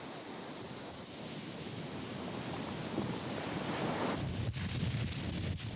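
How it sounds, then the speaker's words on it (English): Heavy surf pounds against a lava shoreline as a continuous loud roar of breaking waves, broad and steady, with a few sharper crashes near the end. "Heavy surf pounding against the growing shoreline"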